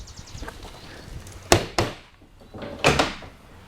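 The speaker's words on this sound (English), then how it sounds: "Now we'll close this door." A heavy-duty door on a fire department special operations vehicle slams shut in two sharp, loud bangs, each followed by a quick latch clack, after a stretch of quiet handling noise.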